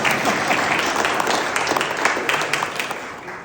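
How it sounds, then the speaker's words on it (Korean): A crowd at an indoor party members' meeting in a conference room claps for a few seconds. The applause is loud, dense and continuous, with some faint voices mixed in. "박수 한번 쳐요."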